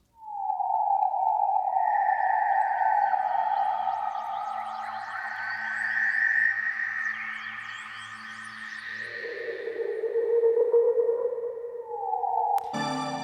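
Synth tones sweep and glide through long, washy delay trails, with echoes swirling and smearing into a continuous swooshing haze, ending on a bright abrupt burst.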